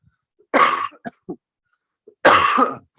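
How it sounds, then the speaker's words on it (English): Two sharp, close coughs about two seconds apart, the first followed by a couple of short throaty catches, with silence in between. "So sorry about the cough."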